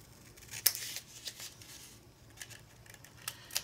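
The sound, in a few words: scissors cutting diagonal triangle out of album hinge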